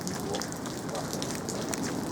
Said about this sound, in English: It's raining like hell crazy, guys